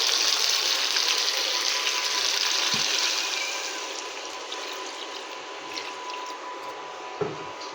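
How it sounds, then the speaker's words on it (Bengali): Water pours steadily into a pot of simmering beef curry with taro root. A continuous close rushing splash softens partway through, with a few faint clinks near the end. "জল দিয়ে নেব।"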